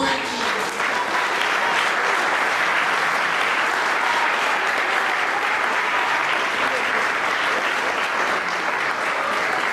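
Sustained, even applause fills a church as the congregation claps for nearly ten seconds without pause, with faint voices blended into the crowd noise.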